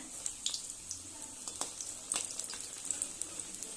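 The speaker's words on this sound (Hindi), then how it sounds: "आगु गोल्डन ब्राउन कलर हेबा पर्यंत छाणी नेबा।" Bread chops frying in hot oil in a home kitchen, a quiet steady sizzle with small pops and occasional sharper crackles scattered throughout, no talking.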